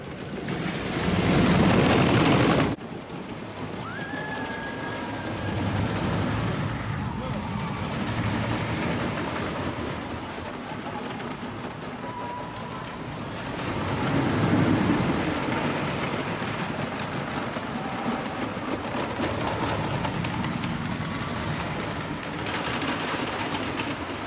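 The Thunderbolt, a vintage wooden roller coaster at Kennywood amusement park, rumbles and clatters along its track in a loud, continuous roar with swelling surges and faint rider screams mixed in.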